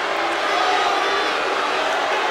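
A wrestling arena crowd at a 2003 SmackDown! event in Bakersfield roars steadily at Charlie Haas of Team Angle, a dense, continuous wash of cheering and voices with no breaks across the whole moment.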